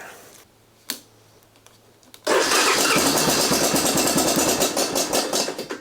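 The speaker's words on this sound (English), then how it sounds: "we're going to see if she fires up here" A 1987 Honda TRX250 ATV gives a few faint clicks before its engine catches and roars into a loud, steady, slightly uneven idle that holds to the end, with no voices.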